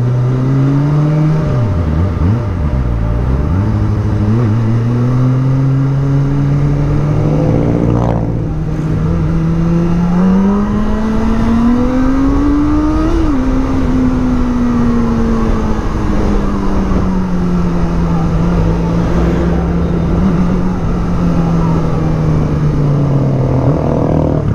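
A Kawasaki ZX-25R motorcycle on a test ride, its high-revving engine whining loud and close, pitch climbing and dropping through gear changes, with wind rush steady underneath.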